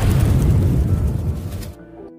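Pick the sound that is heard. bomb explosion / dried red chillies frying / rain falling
bomb explosion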